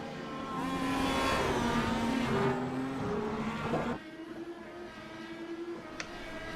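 IndyCar race cars at Road America in iRacing, a loud, high engine whine that holds and shifts for about four seconds, then drops to a quieter steady drone.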